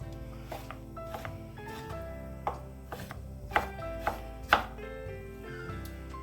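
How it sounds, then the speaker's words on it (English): A knife chops guanciale into lardons on a cutting board, irregular sharp knocks over a low background hum, several cuts louder than others. "first I'm going to cut my guanciale into lardons"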